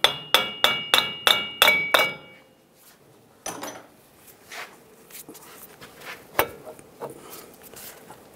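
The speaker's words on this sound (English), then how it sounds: "If you need to, give it a little tap." A hammer taps the axle through the wheel hub of a 2011–2018 Ram 1500, six sharp evenly spaced metallic strikes in quick succession, then a pause and scattered lighter knocks and clinks.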